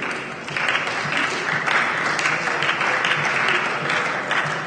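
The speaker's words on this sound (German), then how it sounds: "Applaus" Applause breaks out in a state parliament chamber, a steady, dense clatter of many hands that swells after a brief pause and holds at full strength throughout.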